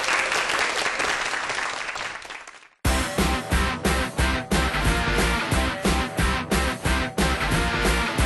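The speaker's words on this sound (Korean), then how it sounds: "여러분 큰 박수로 환영해 주세요." A television studio audience on a Korean science program claps to welcome a guest, a thick burst of applause that fades, breaks briefly, then resumes in rhythmic waves of fairly loud clapping.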